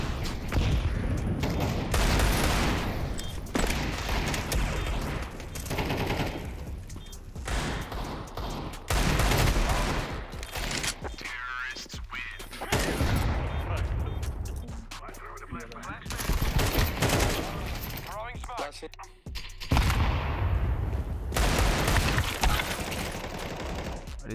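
Video game gunfire in a multiplayer match with a cheater, dense bursts of automatic fire and loud shots in repeated volleys across the whole stretch, with a few quieter gaps and talk mixed in.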